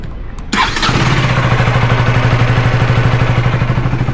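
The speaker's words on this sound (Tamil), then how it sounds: "வண்டியோட எக்ஸாஸ்ட் சவுண்டு தாங்க கேட்க போகிறோம். இருங்க, இனிஷியல் சவுண்டு எப்படி இருக்குன்னு கேட்கலாம்." A KTM Duke 250 Gen3 motorcycle in neutral starts with a brief cranking catch, then settles into a loud, close, rhythmically thumping idle from its exhaust.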